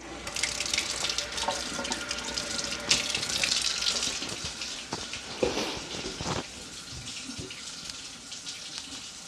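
Tap water runs steadily with a bright splashing hiss, a few louder gushes and clunks mixed in, close by and without talk.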